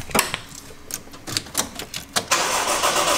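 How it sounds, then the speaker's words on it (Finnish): A car engine with a newly replaced starter motor is being started: sharp clicking and cranking bursts repeat several times, then the engine catches into a steady, loud running roar. "kokeillaan tuosta autoa käyntiin"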